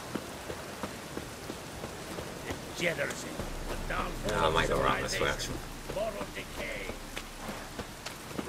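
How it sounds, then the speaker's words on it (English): Steady rain falls in The Witcher 3, a constant hiss of drops on surfaces heard throughout, with someone speaking briefly over it. "Rain again."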